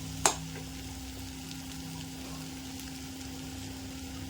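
Chopped banana flower (vaazhaipoo) sautés in a pan with a faint, steady low sizzle, opened by a single sharp utensil tap.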